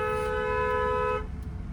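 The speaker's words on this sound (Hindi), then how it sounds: "blind turn long horn press करो" A car horn blares at a blind turn in one long steady tone for over a second, then cuts off, leaving the low hum of a running vehicle.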